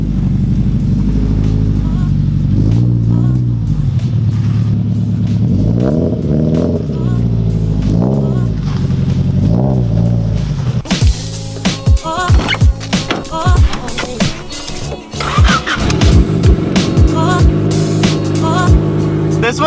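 An EG hatchback in a garage idles and revs, its engine rumbling and swelling up and down, then breaks into harsh, crackling, loud revving with rapid throttle blips that echo close by, while voices may talk under it.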